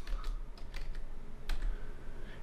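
Quick, uneven typing on a computer keyboard, with close, crisp keystroke clicks in short bursts that stand alone without any talk.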